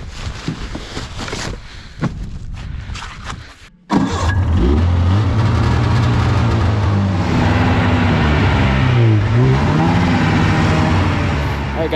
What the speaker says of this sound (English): We drove the sleds out to a different point.